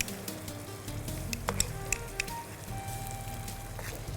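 Ginger paste and poppy seed paste sizzle in a pan on a lowered flame for an Eid special dish, a soft steady frying hiss with a few faint clinks and scrapes near the middle.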